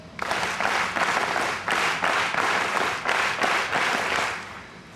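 Audience applause at a state award ceremony, the Rajya Puraskar rally of 2005 in Tamil Nadu: dense, steady clapping from a large crowd, pulsing in waves for several seconds before easing off.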